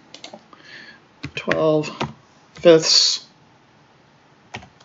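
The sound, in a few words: typing on a calculator or computer keyboard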